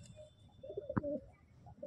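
A Fulshira Andhra pigeon coos once in a short, low, warbling call close by, with a sharp tap in the middle and quiet loft noise around it.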